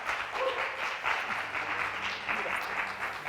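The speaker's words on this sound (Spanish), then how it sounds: "un aplauso" Audience at an architecture talk about Barrio El Golf applauding, a steady, moderately loud patter of many hands that runs the whole time with no clear voices.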